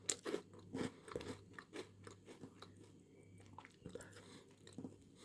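A freshly baked, slightly gritty cookie made with a different kind of flour being chewed close up, repeated crunchy bites and chewing that fade from sharp crackles into softer mastication.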